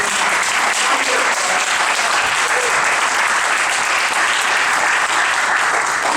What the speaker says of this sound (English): I wanted us all to give our panelists a big round of applause